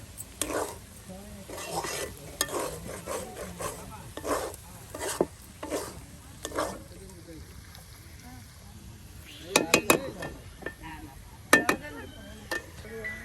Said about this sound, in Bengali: আর এখানে মাংস দিয়ে দিয়ে কিছু সময় উলট পালট করলেই কিন্তু আপনার ভাজি হয়ে যাবে